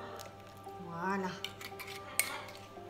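Cherries macerated in sugar being mixed in a mold with a utensil, a brief soft scrape followed by a couple of sharp clinks of metal on the dish, close and quiet.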